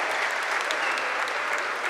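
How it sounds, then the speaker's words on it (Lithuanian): Steady crowd applause fills a Lithuanian basketball league arena as a Mažeikiai player steps onto the court for his debut, dense and continuous throughout with no pauses. "Ir iš karto aplodismentų gausa, nes Giedrius Staniulis pasirodo aikštėje"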